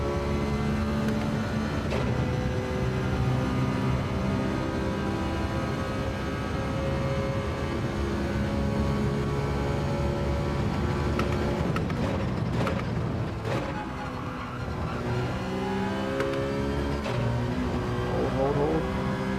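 A race car in Gran Turismo 7 laps Circuit Gilles Villeneuve, its engine droning loud and continuous with shifting pitch, then dipping briefly under braking before it climbs again.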